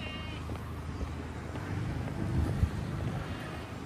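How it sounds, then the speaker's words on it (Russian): Outdoor wind buffeting a microphone on a warm but gusty day, a steady low rumbling roar throughout with a stronger gust near the middle, no voices. "Нет, тепло, но ветер такой."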